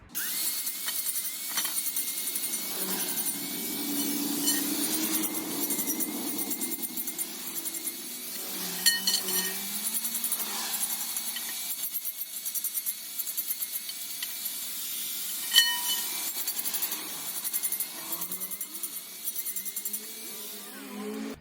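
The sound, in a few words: stripping paint off the ends of a steel square pipe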